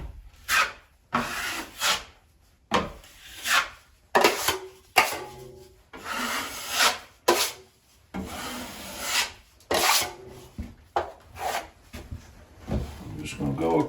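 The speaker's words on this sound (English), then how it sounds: "Just adding a little bit of drywall mud to the mix here." A trowel spreads drywall mud over screw holes and seams on a wall in a mobile home restoration, giving repeated rasping scrapes in short strokes with brief pauses between them, close by.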